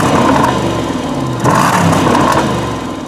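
A supercharged V8 in a Jaguar XJ sedan revs loudly and close up in a sustained roaring whir, swelling again at the midpoint and holding with no voices.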